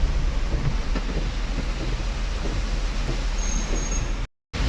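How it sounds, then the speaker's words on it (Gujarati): Heavy rain pouring during a storm in rural Gujarat, a steady dense roar of falling water with flooding on the roads, continuous and loud throughout with no talk, cutting out briefly near the end. "બહુ જોરદાર વરસાદ છે, પાણી બી જોરદાર ભરી ગયું"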